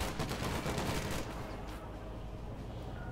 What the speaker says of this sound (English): Of course, the mortar fire.